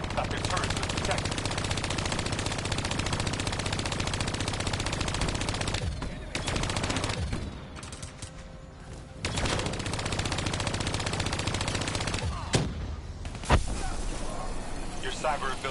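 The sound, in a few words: gunfire in video game Black Ops 3 campaign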